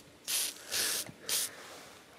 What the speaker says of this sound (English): I'm just going around spraying these bits